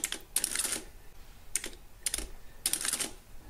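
A 1960s Precisa 160-12 electro-mechanical adding machine prints a total in four quick bursts of close, rattling mechanical clatter separated by short pauses.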